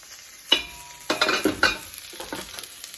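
Chopped onion scorching in a pan for a Thai curry, with a few sharp scraping stirs and soft sizzling bursts, close and moderately loud, no talking.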